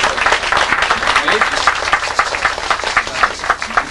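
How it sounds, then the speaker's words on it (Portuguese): Clapping from a gathered audience greets arriving guests at a 1996 public hearing, dense and close, with voices mixed into the applause. "Então vamos aplaudir aqui os nossos"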